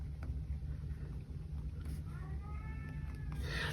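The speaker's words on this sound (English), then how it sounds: "my roommate's cat is being annoying" A roommate's cat gives a short meowing call near the end, over a steady low hum and background noise.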